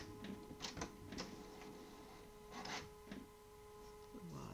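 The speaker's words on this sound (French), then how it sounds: "Le chat a allumé l'imprimante." A printer is switched on and runs through its start-up, a quiet steady hum broken by several faint mechanical clicks and whirs at an uneven pace.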